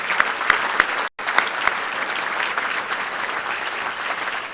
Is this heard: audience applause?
yes